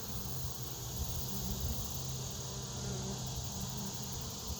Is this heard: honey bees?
yes